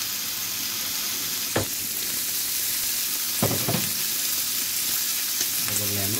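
Bacon dropped into hot oil in a pan sizzles continuously and loudly, with a few sharp clinks and scrapes of stirring over the steady crackle.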